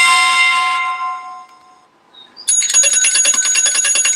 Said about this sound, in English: Bicycle bell.